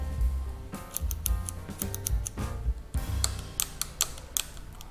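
Buttons on a motorcycle's handlebar switch setup being pressed, giving a series of crisp, close clicks at irregular intervals over a steady low background hum.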